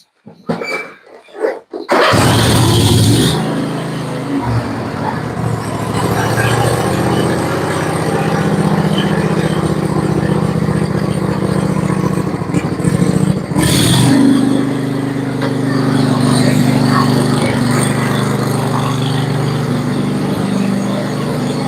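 A lawn mower's small gasoline engine, running cold, roars steadily for most of the stretch, loud and close, after a brief sputtering start, with a slight dip and surge midway.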